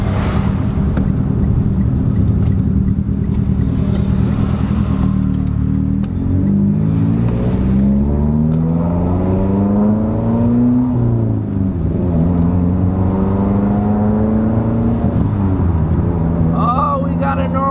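A Mitsubishi Evo X turbo car drives around the block while warming up, its engine note rising and falling in steady harmonic sweeps as it accelerates and shifts, loud and close from inside the cabin, with no talk.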